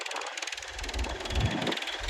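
A Valtra tractor engine runs at full revs under load, a steady close mechanical drone with buzzy harmonics and rumbling low-end surges, partly buffeted by wind on the microphone.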